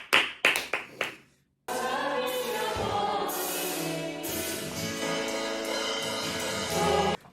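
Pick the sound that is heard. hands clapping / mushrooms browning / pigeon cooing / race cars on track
hands clapping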